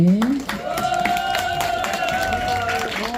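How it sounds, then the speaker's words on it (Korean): An audience at an evening performance applauds to welcome the county governor, steady clapping and crowd noise with music playing underneath. "박수 부탁합니다."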